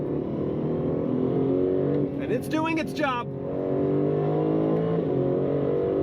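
A 2026 Aston Martin DB12 S accelerating hard on a public road, a loud, steady engine roar sustained throughout, with a man's brief remark over the middle.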